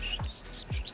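A handheld bird whistle imitates birdsong with three quick, bright chirps inside a second, close and clear with nothing else over them.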